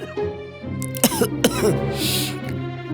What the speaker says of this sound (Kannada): ಕೆಮ್ಮು ಶುರುವಾಗತ್ತೆ